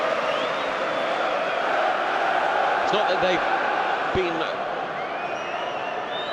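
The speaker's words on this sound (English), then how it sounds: "a supportive response from the crowd" A large crowd at a Newcastle United vs Nottingham Forest football match gives a steady, supportive roar that fills the whole clip, with someone talking over it.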